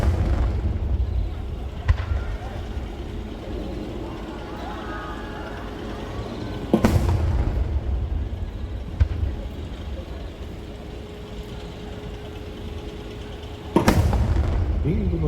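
Fireworks at the Nagashima Onsen fireworks show, two heavy booming bursts spaced several seconds apart with fainter pops and crackle between, over a steady crowd murmur and a voice talking in the background.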